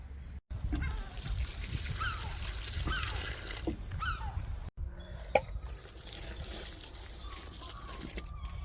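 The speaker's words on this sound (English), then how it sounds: "just go along watering your plants" Soft trickling and dripping of water while garden plants are watered beside a small pool, gentle and close, with faint background sounds and brief pauses in the flow.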